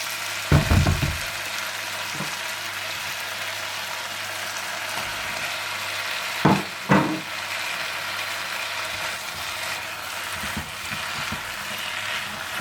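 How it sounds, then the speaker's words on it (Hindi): Chicken and vegetables stir-fried in a pan for chow mein, with a low steady sizzle and a few sharp scraping clatters of a utensil against the pan, no talking. "सब्जियों को अच्छी तरह कुक करने के बाद आप इसमें चिकन डाल दें और इसे भी अच्छी तरह से मिला लें"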